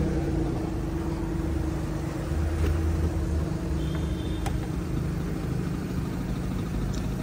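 A Suzuki Alto VXR with a 660cc K6A engine idles steadily just after starting, a constant low hum and drone with an even, unbroken tone and no speech.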